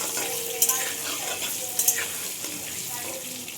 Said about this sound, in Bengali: লাল করে ভেজে নিই।